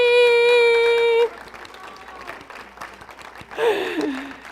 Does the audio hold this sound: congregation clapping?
yes